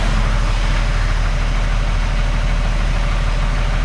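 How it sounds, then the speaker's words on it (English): A Cummins diesel truck engine runs loud and close, a steady dense rumble and roar holding constant throughout with no pauses. "They want to hear her spool up."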